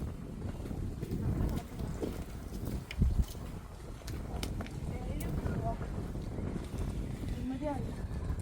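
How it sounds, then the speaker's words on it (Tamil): Outdoor wind in an Israeli village gusting across the microphone as a low, steady rumble and buffeting, with someone talking over it throughout. "காற்று அடிக்குது."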